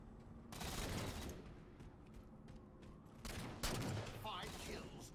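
Gunfire in Halo: The Master Chief Collection multiplayer comes in two sharp bursts, one early and one late, over quiet in-game ambience.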